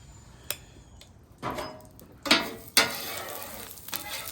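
Parboiled potatoes frying on an outdoor griddle in cold weather, a quiet sizzle punctuated by a few sharp scraping and clinking bursts from a spatula, with no one talking.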